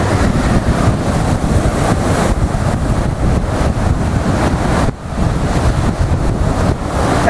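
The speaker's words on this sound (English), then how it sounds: "It's a bit breezy, it's a bit cool." Strong wind buffets the microphone at the Blackpool seaside, a steady loud roar mixed with crashing surf that hardly lets up for the whole stretch.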